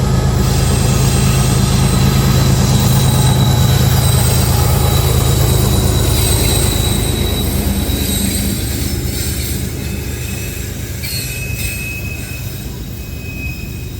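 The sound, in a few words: Norfolk Southern 787 coal train passing, wheels squealing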